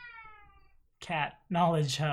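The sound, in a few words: cat yawning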